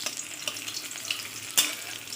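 Pieces of rohu fish fry in hot oil, a close, crackling sizzle with sharp pops and one louder spatter burst, heard alone without any talking.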